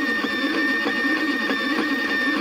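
A Wally 3D printer moving while printing, its stepper motors whining in a steady close tonal drone with slight periodic jerky pulses, alone with no talking.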